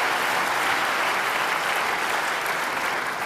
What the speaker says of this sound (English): So let's have a round of applause for Microsoft here.